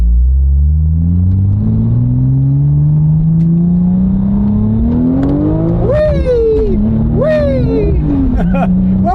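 A turbocharged car pulls away and accelerates along a road, its engine note rising steadily and then swinging up and down through gear changes, loud and close throughout.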